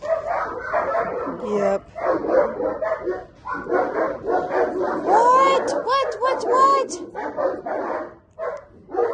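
Several pet dogs bark and yip excitedly from downstairs, in repeated bursts at moderate distance, heard beneath a person talking nearby.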